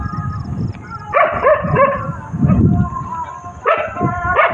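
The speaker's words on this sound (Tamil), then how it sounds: "ரொம்ப குலைக்குது" Dog barking inside a large house, a few sharp barks and yips in bursts with short pauses between, close and loud over a noisy background.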